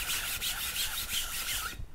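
A hand rubs steadily across the freshly cleaned face of a pickleball paddle, a continuous close dry scuffing with faint rhythmic strokes that stops abruptly near the end.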